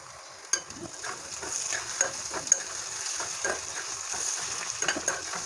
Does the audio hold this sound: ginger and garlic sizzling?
yes